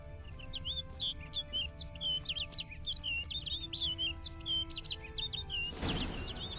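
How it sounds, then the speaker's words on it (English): Repeated chirping bird calls in a PS4 video game, a steady run of quick tweets over a low ambient game backdrop, ending in a brief burst of broadband noise like wings flapping as the bird flies off. "Looks like the bird's leading me somewhere."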